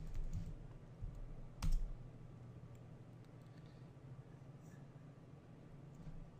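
A few soft keystrokes on a computer keyboard while typing a cd command in a Linux terminal, quiet and sparse taps over a low room hum.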